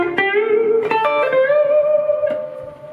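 An electric guitar plays a short blues lick: picked notes, then a string bend held with vibrato that rings out and fades over a few seconds, heard alone and close.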